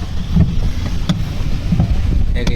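Small tourist boat cruising on shallow water at a beach boating spot, with a steady wash of wind buffeting and water rush close to the microphone and a few faint knocks.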